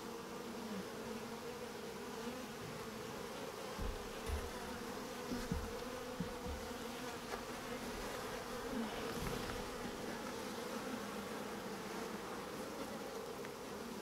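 Honey bees hum steadily around an open new hive during an inspection, a dense continuous buzz with a few sharper passes near the microphone.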